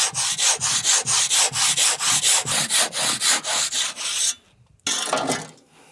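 Hand saw cutting through wood during a farm building renovation, about fifteen quick rhythmic back-and-forth strokes, close and loud, then a brief pause before one more stroke.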